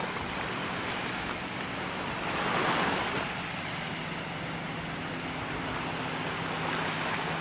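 Ocean waves washing steadily in a broad, hissing wash, with one swelling surge midway and a faint wind rumble underneath, heard alone.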